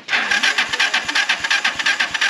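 An engine in the desert is cranked but fails to catch: a loud starter churns in quick regular pulses, about seven to eight per second, without settling into a running idle.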